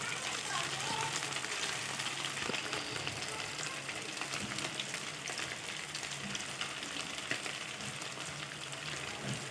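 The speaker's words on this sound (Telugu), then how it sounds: "ఆయిల్ అనేది వేడైపోయిందండి మనం ఒక్కొక్క పీస్ వేసేసుకోవాలి" Chicken pakoda pieces frying in hot oil: a dense, steady close sizzle and bubbling with occasional small pops, continuing for the whole stretch.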